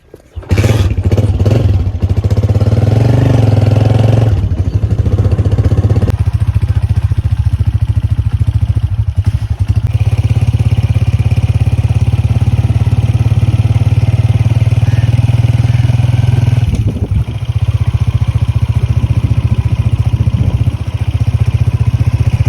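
A motorcycle engine runs steadily and loudly close by, with a low rumble throughout and a few brief clattering bumps.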